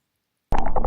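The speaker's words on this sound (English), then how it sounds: "we'll hit record and we'll submerge it in" After a moment of silence, a sudden sloshing, bubbling splash of water as an Insta360 Ace Pro 2 action camera is plunged in, close and loud.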